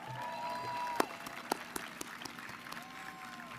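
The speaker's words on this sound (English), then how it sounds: "Let's give them a round of applause" A university commencement audience applauds, steady clapping from a large indoor crowd with a few sharper individual claps standing out near the front.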